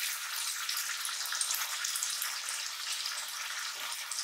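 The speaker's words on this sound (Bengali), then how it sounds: "এবার মশলাটাকে ভালো মতো কষিয়ে নেব" Spices frying in oil for an aar fish malaikari, a soft, even hiss of sizzling that runs without a break, fairly faint and with no voices.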